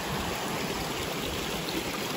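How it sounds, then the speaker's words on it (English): Water rushes steadily at the top of a waterfall in a fern-filled forest, a continuous close, broadband churning wash with no voices over it. "This is the top of that waterfall."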